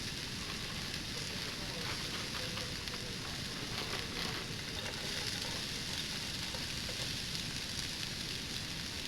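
Julienned onion and cabbage stir-frying in extra virgin olive oil in a hot wok, a steady faint crackling sizzle with no break throughout.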